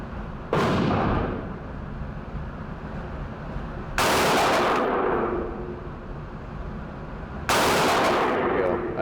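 Tommy Built Tactical TG36K rifle, an HK G36 clone, fired at a range: three loud separate gunshots spaced a few seconds apart, each with a long tail of echo.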